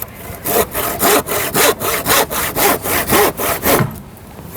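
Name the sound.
hand saw cutting roof timber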